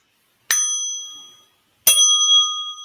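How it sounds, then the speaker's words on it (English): Two strikes of a small bell during a silent meditation session, each a bright ringing tone that decays slowly, the second struck about a second and a half after the first fades, close and alone in a quiet room. "There goes my little bell."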